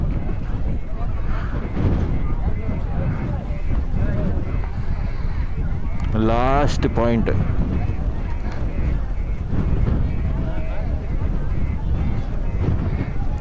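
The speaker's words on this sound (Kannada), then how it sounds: "ಹೆವಿ ಗಾಳಿನೇ ಬರ್ತಾ ಇತ್ತ" Heavy wind buffets the microphone on the coast at Dhanushkodi, a constant low, roaring rumble that never lets up, while a person speaks briefly partway through.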